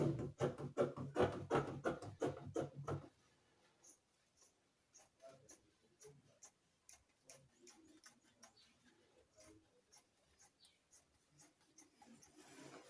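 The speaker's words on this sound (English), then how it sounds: "So I'll use my scissors to cut this out." Scissors snipping through Ankara wax-print fabric, a quick run of sharp closely spaced clicks early on, then softer, sparser cuts continuing at an irregular pace, close and clear.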